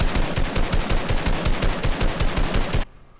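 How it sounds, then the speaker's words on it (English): Loud, rapid automatic gunfire from a video game weapon, a steady stream of evenly spaced shots for nearly three seconds before cutting off abruptly into quiet. "Loud bullets you're letting out there, dude."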